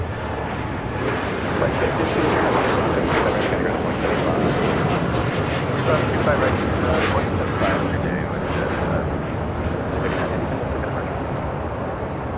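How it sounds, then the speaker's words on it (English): A United Airlines Boeing 787-10 Dreamliner takes off from LAX, bound for Tokyo Haneda: a loud, steady broadband jet roar that holds without a break, with faint voices talking beneath it. "This is United Airlines Flight 39 taking off to Tokyo Haneda on a 787-10 Dreamliner."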